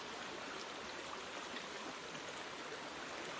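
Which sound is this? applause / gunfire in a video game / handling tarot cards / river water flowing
river water flowing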